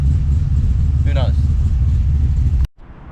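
A Holden VN Executive with a built high-compression 6-litre engine and Turbo 400 transmission idles nearby in a deep, lumpy rumble, with a brief voice-like sound partway through, before cutting off abruptly near the end.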